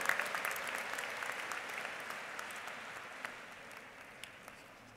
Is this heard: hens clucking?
no